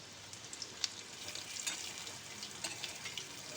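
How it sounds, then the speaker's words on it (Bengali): Potatoes frying in oil for a vegetarian Kashmiri aloo dum, cooked until they take on colour: a steady close hiss and crackle of sizzling with small pops, continuous throughout with no voices. "তো আলুগুলোকে আমি যতক্ষণ না একটু কালার আসছে ততক্ষণ পর্যন্ত আমি আলুগুলোকে ভেজে নেব।"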